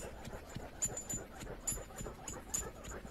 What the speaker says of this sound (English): Oh, dogs. Doggy dog, I love dogs.